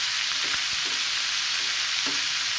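Bottle gourd peel, potato and carrot frying in a pan, a steady broadband sizzle with a few soft stirring scrapes, close and continuous with no voice.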